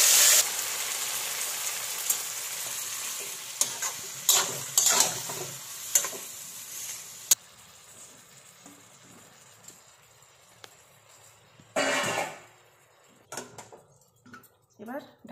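Chicken pieces going into a hot pan with a dried red chili, giving a loud burst of sizzling and frying, then stirring scrapes and bubbling that fade and return in short bursts.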